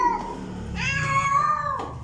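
A cat meows in a long, drawn-out, wavering call that rises and then falls away, close and fairly loud over faint background noise at a cafe in Manila.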